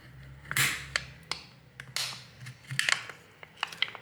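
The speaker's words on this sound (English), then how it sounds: "As you can see, I'm separating the glass from the LCD." Glass being pried off the LCD of an Oppo A5s phone during a screen replacement, heard as close, quiet crackles, snaps and scraping clicks in irregular bursts.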